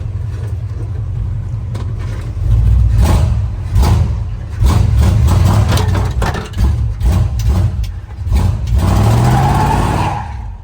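A 1966 Ford F100 truck with a big block engine and a posi Ford 9-inch rear rumbles loudly up close. It surges and revs as it pulls away, with clunks and bumps over the deep engine drone.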